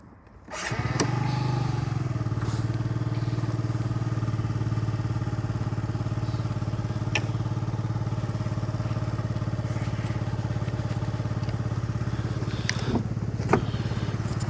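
A Yamaha Jog SA36 fuel-injected scooter engine starts and then runs at a steady, even idle close by. The buzzy putter holds for the rest of the stretch, with a couple of faint clicks near the end and no talk.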